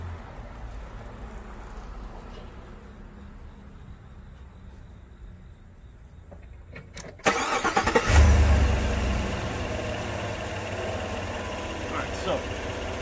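A 2020 Chevrolet Silverado Custom work truck engine cranks and catches with a loud burst midway, then settles into a steady idle, with a voice heard before it starts.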